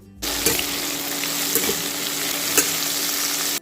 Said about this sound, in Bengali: পরিমাণ মতো নুন আর হলুদ দিয়ে আলুটাকে ভেজে নিচ্ছি লো হিটে